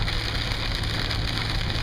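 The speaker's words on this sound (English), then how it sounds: "It's raining in the desert sun." Rain patters steadily on a car while driving through the desert on a road trip between Arkansas and Las Vegas, a constant close hiss over the low rumble of the vehicle and tyres.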